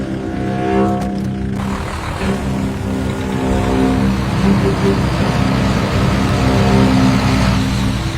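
A car engine starting to drive off on a foggy road, a loud close rumble that swells and grows heavier after a few seconds, with brief rustling at the start.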